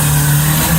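A modified diesel car accelerating away from a car meet revs and roars loudly and steadily with a low droning tone, close by and without voices.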